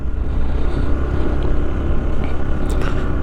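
A vehicle engine labours steadily in first gear, using engine braking, on a muddy mountain road of melted snow between Chang La and Baralacha La passes in Ladakh; a continuous loud low rumble with no talk.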